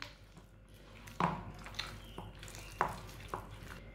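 A spoon stirs chicken pieces in a vinegar marinade for malai chicken kandi, giving soft, wet squishing and scraping strokes that come in irregular bursts, fairly quiet and close with no talking.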